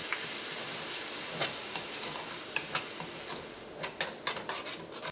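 Tomato puree for chicken tikka masala sizzles over high heat in a pan, a soft continuous frying hiss broken by scattered clicks and taps of a spoon against the pan, close up and without speech.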